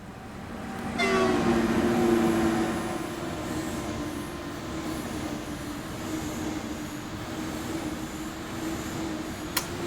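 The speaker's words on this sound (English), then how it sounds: "Here comes this train." An ICE1 high-speed train on the Fulda–Kassel line in Train Sim World 3 rolls past with a loud horn blast near the start, then a steady rushing rumble of wagons that holds and slowly eases.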